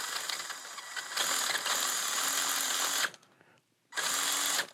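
A Carisma ARC-1 ESC drives an RC crawler motor in bursts of throttle, a steady mechanical whir that cuts off sharply as the drag brake engages, falls briefly quiet, then resumes close to the microphone.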